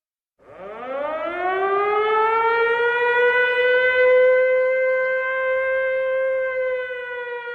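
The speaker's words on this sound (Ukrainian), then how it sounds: "Увага! Повітряна тривога! Всім в укриття!" A civil defense air raid siren winds up and holds a long, steady, loud wail, sounding alone without speech, as an alert during a city day event.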